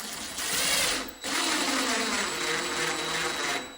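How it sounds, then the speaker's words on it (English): A cordless driver runs screws into a Kwikset Signature Series Halifax LED door handle during installation: two steady whirring bursts, close and fairly loud, the first about a second long and the second lasting over two seconds. "I'm just gonna put my screws in."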